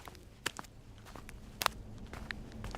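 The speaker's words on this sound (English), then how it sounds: "she started to hear faint footsteps creeping up behind her." Faint footsteps creep along a hallway as a horror story sound effect, a few soft, sparse steps spaced irregularly over a quiet background, with no talking.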